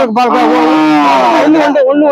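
A cow at a busy cattle market gives a loud, close moo, one long drawn-out low call that holds steady and then trails off.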